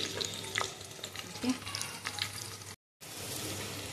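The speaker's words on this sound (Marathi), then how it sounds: "तर मी आता जरा कांदा फ्राय करून घेते ब्राऊन छानपैकी." Sliced onions sizzle and fry in a pressure cooker on a home stove for prawn biryani, browning steadily. A continuous close crackle runs under occasional stirring scrapes, and someone briefly speaks.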